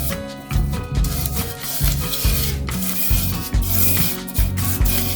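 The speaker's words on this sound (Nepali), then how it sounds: "यहाँ म बटर पेपरलाई पनि राख्दैछु" Butter paper pressed and smoothed into a cake tin for a fruit cake, giving loud, close rubbing and crinkling strokes in repeated uneven sweeps.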